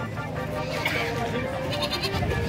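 Goats bleat amid a busy crowd at a livestock market in Malasiqui, Philippines, with people talking loudly over a constant market din.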